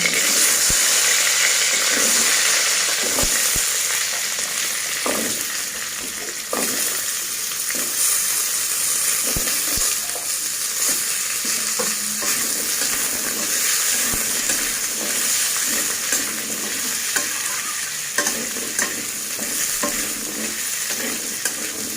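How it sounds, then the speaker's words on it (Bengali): Potatoes fry in hot oil in a wok, giving a loud, continuous sizzle with scattered clicks and scrapes of stirring throughout. "তেল দিয়ে এবার আলুগুলো ভেজে নিচ্ছি"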